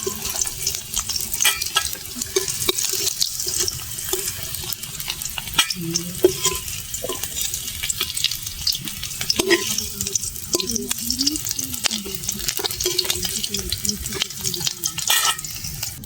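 Potatoes being stirred and fried in hot oil for Bengali aloo dum, a steady close sizzle with repeated scraping strokes of a spatula against the pan throughout.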